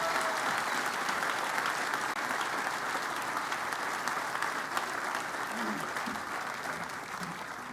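A crowd gathered at a university's on-campus stadium groundbreaking claps in dense, sustained applause that holds steady throughout, with faint voices mixed in.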